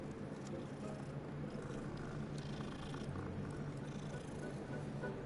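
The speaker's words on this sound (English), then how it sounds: "Aw, you're a good kitty." A cat purrs steadily and continuously in Hogwarts Legacy, a soft low rumble with no pauses, heard alone at close range.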